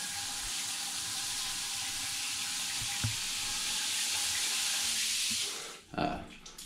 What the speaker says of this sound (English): Shower's wonderful. It's got a really pretty shower head up here. I'll turn this on so you guys can see.